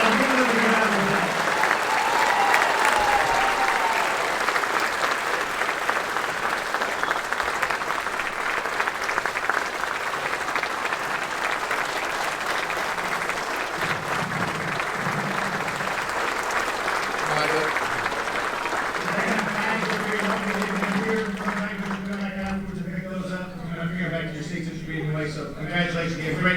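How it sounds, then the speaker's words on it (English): A large audience at a 2020 golf awards celebration applauds loudly and steadily for a long stretch, the dense clapping filling the room, with a voice beginning to speak near the end. "Give them a round of applause"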